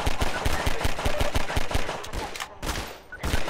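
Rapid automatic gunfire in the video game Half-Life 2, loud dense bursts of shots in quick succession with a short lull before firing resumes.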